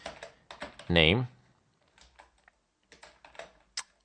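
Clicky computer keyboard typing code, quick bursts of keystrokes in short clusters, close and clear, with a brief spoken word between them.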